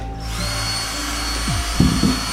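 A power drill whirs steadily at a moderate distance, its motor hum holding constant, with a few brief pitch sweeps and louder bursts toward the end.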